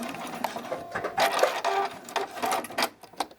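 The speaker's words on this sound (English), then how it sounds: "Back stitch a few stitches." Sewing machine back-stitching a few stitches on a bralette cradle, a close, rapid mechanical chatter in short uneven bursts with brief pauses between them.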